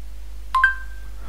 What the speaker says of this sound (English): I hope you can hear that beep sound